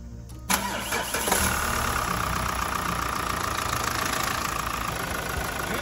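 A Mazda CX-5 (KE) engine cranks and fires after an oil refill, settling into a steady, close mid-pitched idle with no talking.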